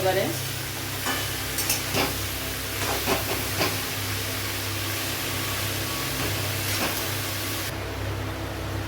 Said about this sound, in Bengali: চাল কুমড়োটা তোমরা এরকম ঝুরি ঝুরি করে কেটে নেবে যতটা পারবে। ভালো করে নেড়ে নেবো।